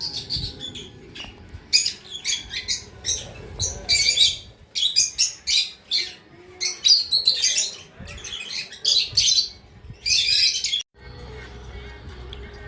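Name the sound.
birds chirping in a park aviary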